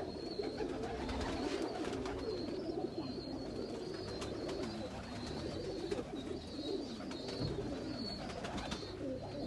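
Sialkoti and Teddy pigeons kept as breeder pairs coo softly and repeatedly in overlapping low murmurs, with faint higher chirps above, steady throughout at moderate distance with no talking.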